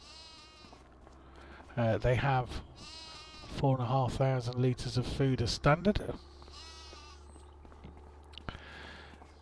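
Sheep bleat several times, close and fairly loud, on a Scottish Highlands farm in the Farming Simulator 25 video game, over a steady background hum; someone speaks briefly between the calls.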